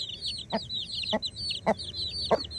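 Hen clucking inside a chicken coop on a farm, a few short separate clucks spaced about half a second apart, fairly close, over a constant high chirping of chicks.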